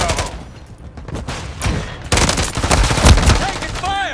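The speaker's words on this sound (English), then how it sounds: "Taking fire!" Dense gunfire in the Call of Duty: Modern Warfare III game builds into loud, sustained automatic bursts and rattling fusillades, close and overlapping, with a voice calling out briefly near the end.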